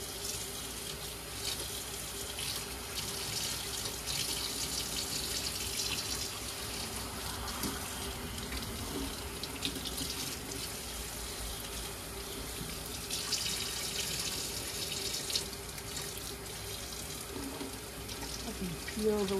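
Tap water runs in a steady, close rush over a blade being washed under the faucet, continuing without a break from start to finish.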